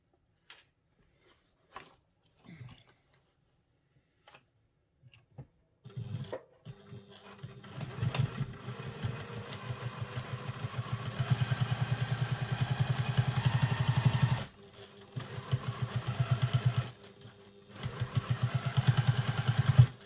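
A sewing machine bastes a seam across the bottom of a travel satchel, opening with a few faint clicks before a steady loud whirring run starts, pauses briefly, then resumes near the end.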